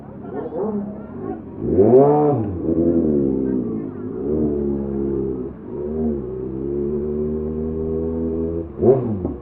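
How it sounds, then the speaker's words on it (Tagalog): Vehicles rev and drone in heavy traffic on a crowded street at a Christmas village in Calasiao, Pangasinan, with a motorcycle engine swelling near the start and end over a steady crowd hubbub and voices. "Grabe traffic."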